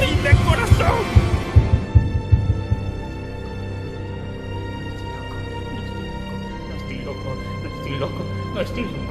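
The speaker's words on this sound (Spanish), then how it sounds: "He ahí el latido de su horrible corazón." Slow, heavy heartbeat thumps pound loudly for about three seconds as a sound effect, then fade into a low droning hum with faint scattered sounds.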